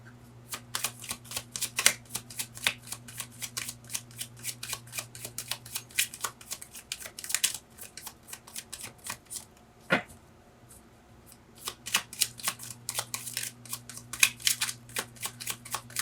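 Rapid crisp riffling and flicking of tarot cards, repeated bursts with brief pauses, close and fairly quiet, a low steady hum underneath.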